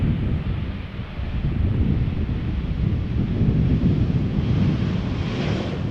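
A 14-year-old airliner touching down at Schiphol after a flight from Frankfurt, heard as a steady, broad low roar with wind rush that swells slightly toward the end, no voices.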